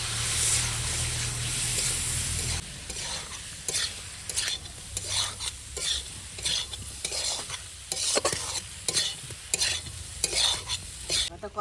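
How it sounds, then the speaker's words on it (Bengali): Spinach and paneer mixture stir-fried in a pan with a little water: a loud sizzle at first, then repeated scraping and stirring strokes with crackling in an uneven rhythm. "এতে একটু সামান্য জল দিয়ে ভালো করে কষিয়ে নেব"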